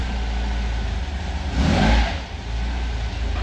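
A car engine revs up once in a short swell, rising and then dropping back to a steady low engine hum, close by and loud with no talking.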